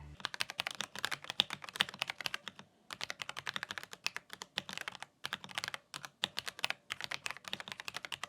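Rapid clicking keystrokes on an RK R75 mechanical keyboard, close and steady, with brief pauses between bursts of typing.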